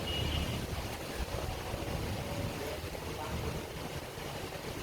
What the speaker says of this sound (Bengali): এখন একটু হালকা বৃষ্টি পড়তেছে, হালকা, কিন্তু ঠান্ডা একটা বাতাস